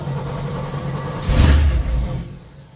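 A 1951 Willys M-38 with fuel injection cranks on a cold start: a steady whirring rumble swells into a brief louder surge of engine noise, then fades away, close by with no talk.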